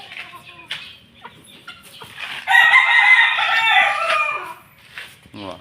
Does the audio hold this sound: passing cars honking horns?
no